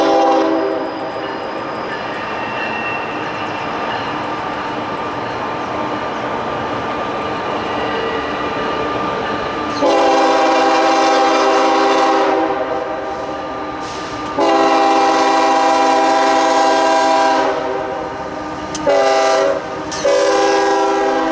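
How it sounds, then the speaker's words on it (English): Trains pass at a railfan campout in Virgilia, California, with a loud, steady rolling rumble and wheel clatter throughout, swelling louder in bursts toward the end as cars go by close, with horn-like tones. "say bye-bye to the trains"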